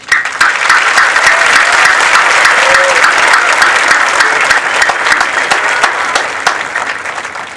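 Loud, sustained applause from a crowd at a high school graduation ceremony, dense clapping filling the whole stretch without pause.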